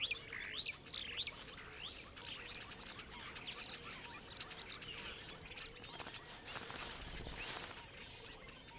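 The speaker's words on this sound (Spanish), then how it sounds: "Varias especies de pájaros tejedores tienen un punto en común." Weaver birds in East Africa chirp in a busy, overlapping chorus of high tweets and trills, steady throughout with a few louder calls standing out and a brief low thump near the end.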